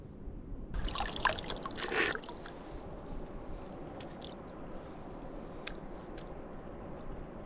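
The Colorado River flows at the bottom of the Grand Canyon with a steady, soft rushing and trickling. A few brief clattering sounds come near the start.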